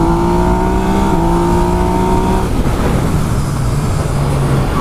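A 2017 Yamaha MT-09 motorcycle on a test track accelerates at full throttle in second gear. Its engine note climbs loud and close, breaks briefly at a shift, then climbs again.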